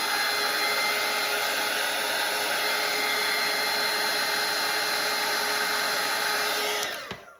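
A hair dryer blows on watercolor paint with a steady, loud, close whooshing roar and high whine that holds constant for about seven seconds before it is switched off and winds down.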